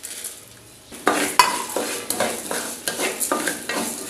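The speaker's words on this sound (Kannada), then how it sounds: "ಕೊತ್ತಂಬರಿ ಜೀರಿಗೆಯನ್ನು ಕೂಡ ಸೇರಿಸ್ಕೊಂಡು ಇದನ್ನು ಕೂಡ ಫ್ರೈ ಮಾಡಿಕೊಳ್ಳೋದು" Urad dal, coriander seeds and cumin frying in a pan for ridge gourd chutney, a quiet start then sizzling crackle with repeated close spoon scrapes and stirring strokes at an uneven rhythm, no speech.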